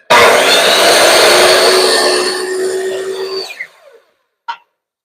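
A power saw rips through wooden door casing for about three and a half seconds, a loud, dense whine that fades as the cut finishes, followed by a short knock.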